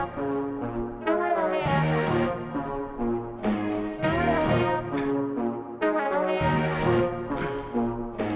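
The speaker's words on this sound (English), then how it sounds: "the vocoder is saying Philadelphia" Arturia vocoder singing the word Philadelphia for a Fresh Prince theme remake, a robotic chord-like synthetic voice that repeats several phrases in a steady rhythm, moderately loud and without other talk.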